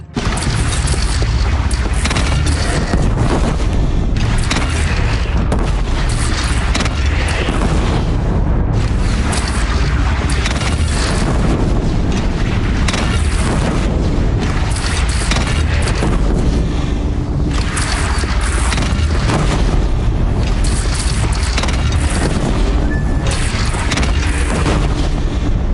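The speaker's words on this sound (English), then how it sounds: "They only have one cannon!" Bandit cannon fire from Horizon Zero Dawn, loud deep booms repeating over a dense, continuous roar of battle noise for the whole stretch, with no clear voices.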